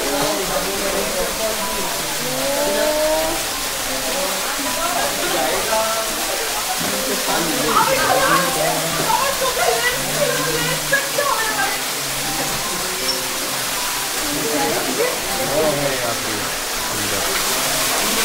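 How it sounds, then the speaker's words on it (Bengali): Water pours down at Wah Caba Falls on the way to Cherapunjee, a steady broadband rushing roar that runs continuously throughout, with voices talking loosely over it. "এই যে জলটা পড়ছে, এইটা মজাদার একটা ব্যাপার।"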